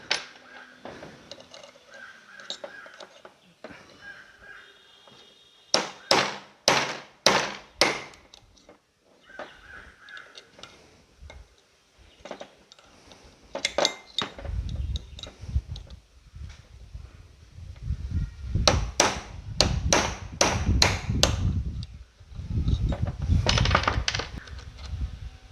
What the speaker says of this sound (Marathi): त्यामुळे आपल्याला हा रिवेटसुद्धा कट करावा लागेल